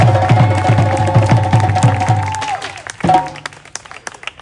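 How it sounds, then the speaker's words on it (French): At a Montreal evening gathering on inclusion, a loud, rhythmic, chord-heavy burst of sound is followed by a crowd clapping for the musicians, with scattered claps fading out toward the end. "On peut avoir des applaudissements pour eux."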